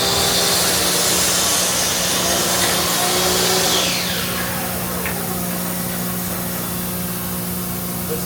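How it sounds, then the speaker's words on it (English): Air-powered face frame clamping machine running in a woodworking shop, a loud steady pneumatic hiss and hum that drops in level partway through and continues as a constant drone. "our face frame clamping machine runs off of air, so this must be plugged in"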